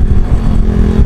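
Yamaha Jupiter Z1 motorcycle engine with a Tsukigi aftermarket exhaust, running on diesel oil and not fully warmed up, gives a loud, steady low rumble close by, revving without pause and with no talk.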